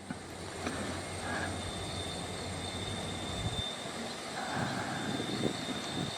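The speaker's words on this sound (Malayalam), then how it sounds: "ആ പാലങ്ങളിലൂടെ ആ വണ്ടി ഇപ്പോൾ നമ്മുടെ തൊട്ടടുത്ത സ്റ്റേഷൻ, അതായത് എടമാൻ സ്റ്റേഷനിലേക്ക് പോയിക്കൊണ്ടിരിക്കുന്നതാണ് നിങ്ങൾ കാണുന്നത്" Guruvayur–Madurai Express train rolling across bridges on its way to Edaman station, heard as a steady, moderately loud rumble of wheels and cars that swells slightly toward the end, with no voices.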